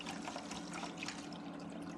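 Water pours steadily into a reef aquarium during a water change, a continuous close splashing trickle with no pauses and no voices.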